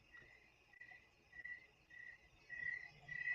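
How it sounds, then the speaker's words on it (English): Crickets chirp faintly in a quiet night setting in Northern California, thin repeated trills pulsing in short bursts that grow a little louder toward the end, with no talking over them. "You hear the crickets?"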